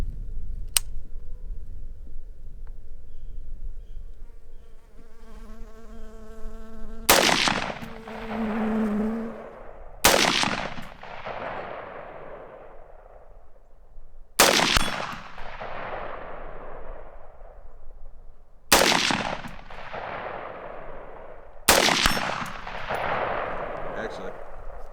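Five loud rifle shots fired at targets through a Spina Optics 4x20 retro carry handle scope, spaced a few seconds apart, each a sharp crack with a decaying echo over quiet outdoor background.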